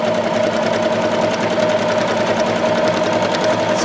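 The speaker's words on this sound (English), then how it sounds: "combining those two stitches, I'm going to get a totally different kind of stitch now" A sewing machine runs steadily at speed, sewing decorative combined stitches, its fast mechanical chatter loud, close and continuous with no talk over it.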